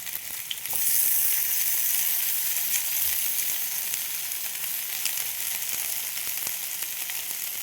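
Pumpkin, sweet potato, pointed gourd, eggplant and carrot frying in a pan with oil, a steady loud sizzle running throughout with no one speaking.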